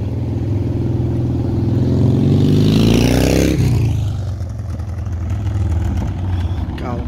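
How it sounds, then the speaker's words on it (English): A motorcycle engine roars past close by near a train station, rising to a peak and then fading as it moves away, with a voice talking over it. "God, look at that motorcycle."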